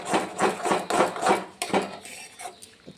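Cabbage with salt frying in a pan for a mashed cabbage dish, stirred with a utensil that scrapes and clinks against the metal in quick, irregular strokes, close and fairly loud, fading toward the end with no speech.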